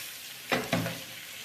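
Red and green peppers dropped into a hot pan and stirred, two quick close sizzling bursts over a steady background hiss, with no voices.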